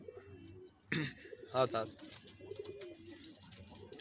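Domestic pigeons in a rooftop loft give soft cooing calls among rustling and flutters, close by, while someone talks over them throughout.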